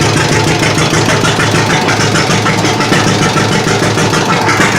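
Loud, steady rumble of a John Deere tractor's diesel engine idling close up, with a continuous rough, knocking throb and no voices.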